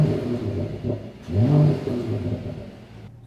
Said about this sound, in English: We can also rev the engine a little bit.